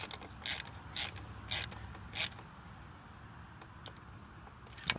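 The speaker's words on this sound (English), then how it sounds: "so tightening this down now" Ratchet tightening bolts on the air intake of a Nissan Stagea: four or five short, bright clicking bursts at an even pace, close and fairly loud, followed by fainter scattered clicks over a quiet background hum.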